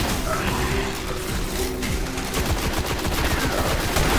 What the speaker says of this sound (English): I'm just hip firing like a beast right now